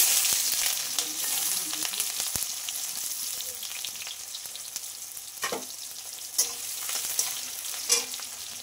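Bay leaves and onions frying in hot oil in a pan: a continuous close hiss and crackle with a few scraping stirs, and no one speaking.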